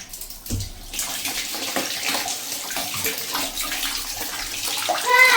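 Water gushes steadily from a tap into a bucket, a continuous splashing rush that grows slightly louder near the end, while filling water balloons.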